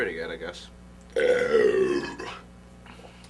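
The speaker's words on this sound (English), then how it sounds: "You just burped in my face" A loud, drawn-out burp right up close, croaking for about a second between bits of casual conversation.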